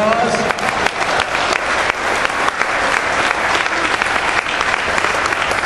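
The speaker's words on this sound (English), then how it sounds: "Let's give all our seniors one more big round of applause." A crowd claps loudly and continuously for graduating seniors at an indoor swim meet, a dense wash of applause with scattered sharp claps close by, and a voice partly audible beneath it.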